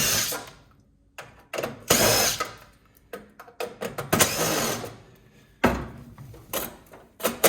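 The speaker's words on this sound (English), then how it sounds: "I've done literally most of this with a driver and one bit" Electric driver unscrewing parts from a scrapped water heater, with bursts of whirring and ratcheting separated by short pauses, loud and close with no talk.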